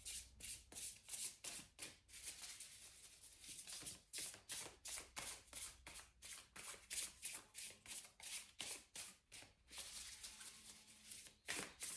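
Tarot cards are shuffled by hand in a quiet room, making a rapid, rhythmic series of soft papery riffles and taps that repeat steadily with brief pauses between bursts.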